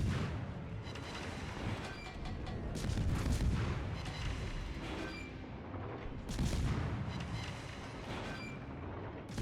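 Warship guns firing armor-piercing shells in a naval video game: a dense, continuous roar of heavy booming salvos that swells in waves, loud and close throughout, with no voices.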